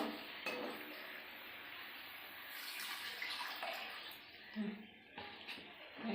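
Water poured into a cooking pot, a close splashing pour with some light clinks, running a few seconds amid kitchen noise.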